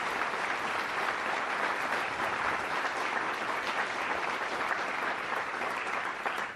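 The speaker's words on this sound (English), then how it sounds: "Please give them a round of applause for their service." A ceremony audience gives Army veterans a sustained round of applause, dense steady clapping filling the room at even loudness throughout.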